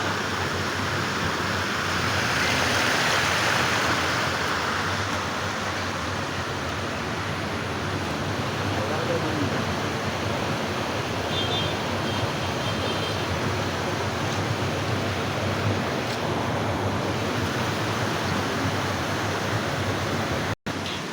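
The Kapila river flows beside the Shishileshwara temple, a steady broadband rush of water that stays even and fairly loud throughout, with no voices.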